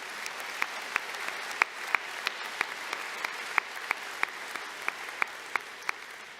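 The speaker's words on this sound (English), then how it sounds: "Let's give all our graduates congratulations with a round of applause." A commencement crowd applauds graduates at a university ceremony, with broad, even clapping throughout and sharp individual claps standing out at a regular pace across the full stretch.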